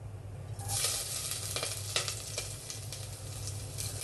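Ginger tossed into hot oil with aromatics for mutton kurma, a bright sizzle that flares as it goes in, then steady frying with a few stirring scrapes.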